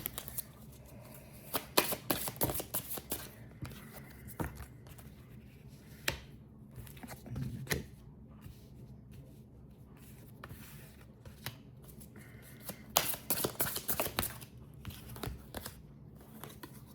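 Tarot cards being shuffled by hand, a steady run of soft riffling and flicking close by, with several louder bursts of card slaps over about seventeen seconds and no talking.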